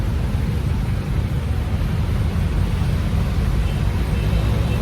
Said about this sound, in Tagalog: Sobrang traffic pa rin.